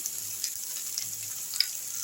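Vegetables with ginger, garlic and pepper frying, a short, fairly quiet steady sizzle with a faint low hum and a light click near the end.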